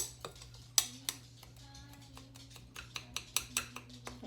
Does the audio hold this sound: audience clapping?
no